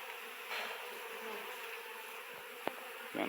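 Italian European honey bees swarming around an opened hive during a honey harvest in the Brazilian sertão, a continuous close, high buzz with a few brief louder passes and a sharp tick near the end.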